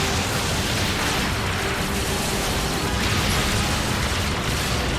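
Dense, steady roar of explosions from the Star Fox Zero video game, loud and continuous for the whole stretch with no speech over it.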